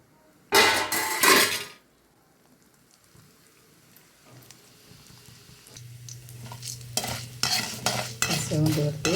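Urad dal hits hot groundnut oil in a kadai with a sharp burst of sizzling and scraping, then a lull before a steady, building fry with clinks of a spatula against the pan.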